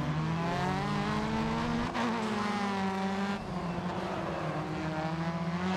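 A mobile racing game plays a continuous car engine drone whose pitch rises and falls as the car accelerates and shifts, loud and unbroken, with no speech.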